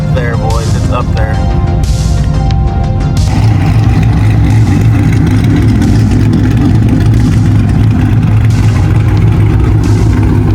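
A 5.7 Hemi fitted with a Brian Tooley Stage 2 cam starts with a lumpy idle, then swells into a loud, sustained rev with a heavy low rumble that holds to the end, with a voice speaking briefly over the start.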